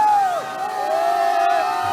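Children cheering as a crowd at a dance competition, a sustained loud whooping roar with a high shout that bends and falls, continuing throughout.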